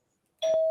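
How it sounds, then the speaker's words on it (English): A single electronic doorbell chime rings out suddenly after near silence, a clear sustained tone that starts abruptly and holds to the end. "That was Dax's doorbell"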